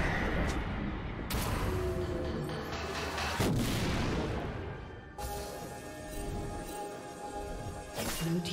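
A League of Legends turret is destroyed with a series of heavy, booming, explosive crashes. A large impact comes in near 1.3 seconds, another around 3.5 seconds and a third around 5.2 seconds, over a dense bed of game effects.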